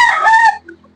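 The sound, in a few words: roosters crowing, fighting cocks on a backyard farm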